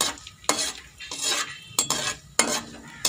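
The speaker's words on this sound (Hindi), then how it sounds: "ज़ीरे और धनिया को घी के अंदर डाल दें और इसे भूनना शुरू कर दें" Cumin and coriander roasting in ghee in a pan for a Punjabi samosa filling: a spatula stirs and scrapes in short, sharp bursts about every second, with a soft sizzle between strokes and no talking.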